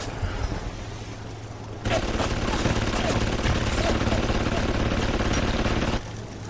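A hacked machine gun turret fires in BioShock, a dense, loud burst of rapid automatic gunfire that runs for about four seconds before cutting off, over a steady low game hum.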